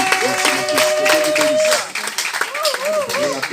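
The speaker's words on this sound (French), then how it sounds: "Est-ce que vous pouvez les applaudir?" A church congregation claps at a French-language service, a burst of applause mixed with crowd noise and overlapping voices, fading briefly then picking up again under singing-like vocal tones.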